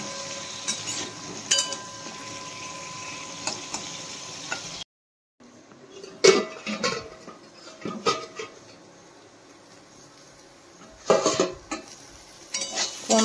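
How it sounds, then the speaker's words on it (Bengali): Pointed gourd (potol) fries in an oiled pan with a low sizzle, interrupted by bursts of spatula clatter and scraping against the pan and one brief silent break. "ফার্স্টে পটলটা ভেজে নিই, আলুটা পরে ভাজবো।"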